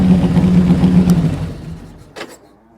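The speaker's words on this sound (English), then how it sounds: "I have a 2001 Road King." A 2001 Harley-Davidson Road King with an 88 engine idling with a deep, steady rumble close by, then fading toward quiet, with a couple of short sharp clicks near the end.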